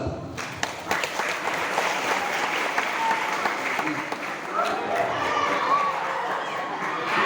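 Audience applause at a police community outreach event held at an Islamic boarding school, steady dense clapping lasting several seconds, filling the space with crowd noise and some murmuring.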